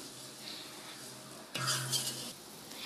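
Roasted chana dal and sesame seeds being stirred in a pan for a Kerala aval snack, a soft continuous scraping that turns louder and busier midway, then settles back.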